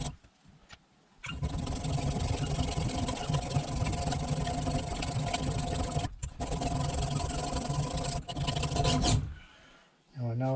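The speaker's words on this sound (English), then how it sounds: "we'll give the splitter a bit of a sharpen up" Hand file sharpening the edge of a block splitter maul in a workshop, a steady rasping scrape running for about eight seconds after a quiet start, with a brief pause midway before it stops.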